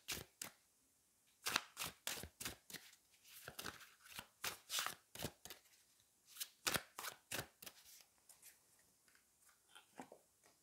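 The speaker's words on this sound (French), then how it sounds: "on va aller prendre 3 cartes du tarot" Tarot cards being shuffled by hand: a close, quiet series of crisp riffling bursts in quick irregular clusters, with short pauses between, and no talking.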